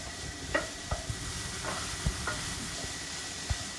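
Bacon and egg scramble frying in a pan, a steady close sizzle and hiss with several sharp scrapes and clicks of a utensil stirring at irregular intervals.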